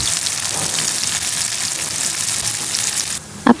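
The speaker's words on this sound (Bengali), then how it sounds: "একটি কড়াইয়ে পরিমাণ মতো তেল দিয়ে আমি প্রথমেই কুচি করে রাখা করলাগুলো ভেজে নেব।" Chopped bitter gourd frying in plenty of oil in a wok gives a loud, dense, unbroken sizzle close by, with one brief clack right at the end.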